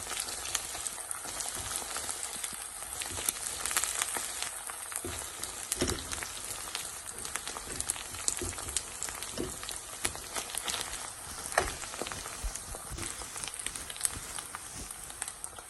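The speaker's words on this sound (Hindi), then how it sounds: "तो अब जब गोल्डन हो जाए ना ऑनियन तो इसमें जिंजर गार्लिक का पेस्ट डालें।" Golden onions sizzle in a pan with ginger garlic paste for a chicken and potato gravy, a steady crackling hiss with scattered sharper pops, fairly close, with no talk.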